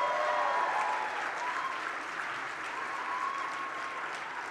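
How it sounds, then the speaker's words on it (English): Applause from guests at a Human Rights Campaign dinner in New York City, a sustained wash of many hands clapping that holds steady and slowly eases off over a few seconds, heard alone without talk. "Let's give them a round of applause."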